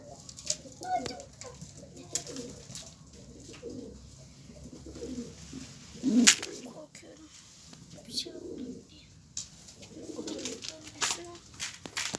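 Pigeons coo in low, soft repeated phrases, close by, mixed with rustling, fluttering and occasional sharper taps.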